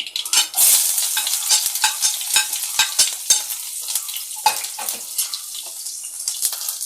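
Thinly sliced shallots drop into hot oil with mustard seeds, a busy close sizzle broken by sharp scattered pops and crackles that crowd together early and stay steady throughout, with no voices.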